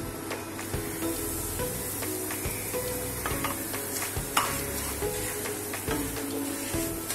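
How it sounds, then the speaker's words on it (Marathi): Semolina (rava) roasts in a pan under steady stirring, giving a soft dry sizzle with repeated scraping strokes and occasional light clinks, close by, with no talking. "पहिला रवा भाजून घेऊ।"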